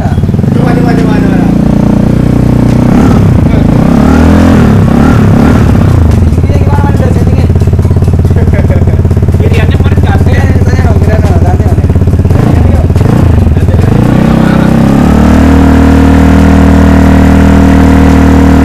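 A Vespa Sprint scooter engine sits at idle nearby and is revved repeatedly, rising and falling in a loud, buzzing drone, with people talking over it.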